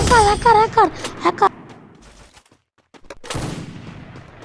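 Video game gunfire rings out in a few sharp shots mixed with a tonal in-game sound at the start, then quiets before a noisy burst of game sound returns, with a voice present.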